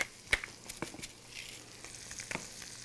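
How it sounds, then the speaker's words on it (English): Flank steak seasoned with salt, cracked pepper and red pepper sizzles in a cast iron pan, a steady frying hiss broken by scattered sharp crackles and pops, with no talk. "Oh, that's sizzling."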